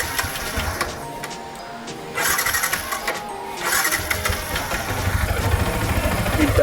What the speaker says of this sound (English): The engine on this still doesn't start in the first go when I click it